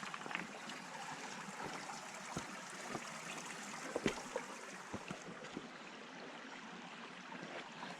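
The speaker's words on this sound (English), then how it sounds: "Cross back over that creek." Shallow creek water flows at a trail crossing in the mountains, a faint steady trickling wash with occasional soft knocks and splashes.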